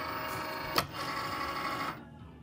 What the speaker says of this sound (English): So let's put this into the Cricut.